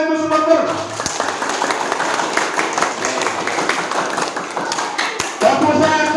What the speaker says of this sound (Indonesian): Tepuk tangan untuk supporter.